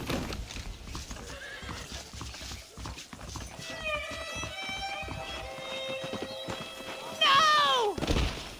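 Horses from the video game Red Dead Redemption: steady clip-clop of hooves under ambient game sound, with a loud whinny near the end.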